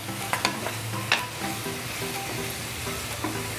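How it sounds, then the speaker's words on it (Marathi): Shredded cabbage and spring onions stir-frying in oil, a close, even sizzle with a few crisp clicks and scrapes of the spatula against the pan, no voices. "तेलामध्ये भाज्या पटकन परतल्या जातात,"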